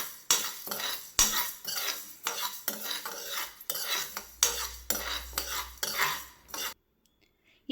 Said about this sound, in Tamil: பாசிப்பருப்பு லைட்டாக வறுத்தா போதும்